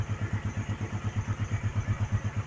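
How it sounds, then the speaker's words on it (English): Mini Baja truck engine idling on choke after sitting unstarted for a couple of years, with a fast, even chugging pulse that repeats steadily at close range and no voices over it. "But she's idling on choke."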